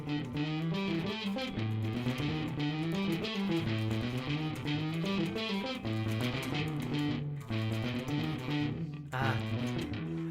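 Distorted electric guitar riff played alone at moderate volume, rhythmic repeated notes continuing steadily with a brief break near the end.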